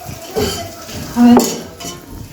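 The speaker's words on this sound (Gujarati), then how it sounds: "બધું જ આપણે બરાબર હલાવી લઈશું." A spoon stirs dhokla batter seasoned with hing and Kashmiri chili in a metal pot, scraping and clinking against the sides in a few uneven strokes, close and fairly loud.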